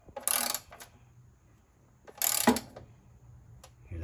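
A hand ratchet tightens bolts on a thin engine cover, giving bursts of rapid clicking: one burst at the start, a second about two seconds later and a brief third at the end, close and clear.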